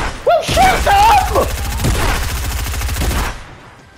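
Fortnite gunfire rattles as a dense rapid burst of automatic shots, fairly close and loud. A voice shouts over the start, and the firing cuts off sharply near the end.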